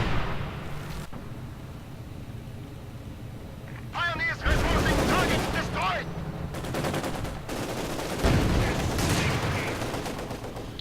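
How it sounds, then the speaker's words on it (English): Mortar and artillery fire in the World War II strategy game Company of Heroes 2 during a 2v2 match: repeated bursts and booming impacts mixed with battle noise, with a commentator talking over much of it. "Lots of mortars up for Daddycool"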